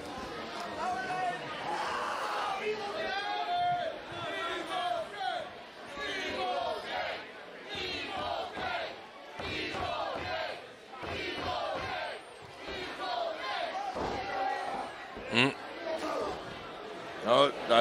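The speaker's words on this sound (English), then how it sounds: "Crowd is into it." Wrestling match crowd roaring and cheering throughout, with bursts of excited shouting and chatter over a steady, busy arena din.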